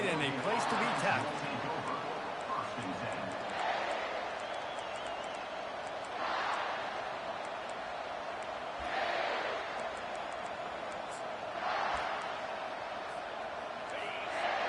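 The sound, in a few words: stadium crowd noise from a video game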